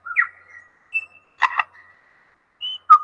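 A bird's chirps and whistles are followed by a quick double mechanical click imitating a camera shutter, then a short tone and a final sharp click.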